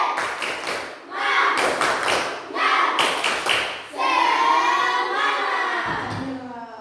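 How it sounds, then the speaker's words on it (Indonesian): A school class performs a rhythmic spirit clap in bursts of sharp, patterned hand claps with brief pauses between sets, followed by children chanting or singing together. "Coba tepuk semangat"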